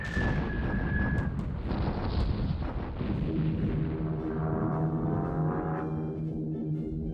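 Bombs exploding on an airfield in a Battle of Britain air-war video game, a continuous loud rumbling barrage of blasts with no talking.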